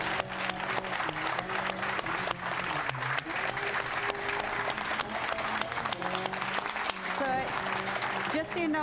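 Conference audience applauding at the close of a talk, a dense, steady wash of clapping that fills the whole stretch at full volume, with some speech-like sound mixed in.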